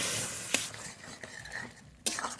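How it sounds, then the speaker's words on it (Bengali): Spinach curry is stirred in a pan over a soft, quiet sizzle, with a few distinct utensil scrapes and clinks against the pan at irregular moments. "নাড়তে নাড়তে শাক একদম কমে গেছে"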